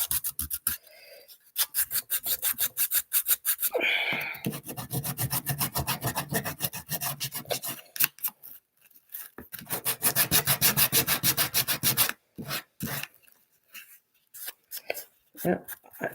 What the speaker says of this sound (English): I gotta sand it down before I paint the back